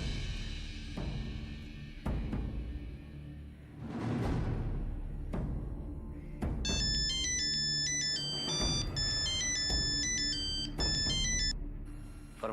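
A phone ringtone plays loud and unanswered for over twelve seconds, a repeating electronic melody with bright chiming notes and bursts of rhythmic beats, repeating without pause and with no voices.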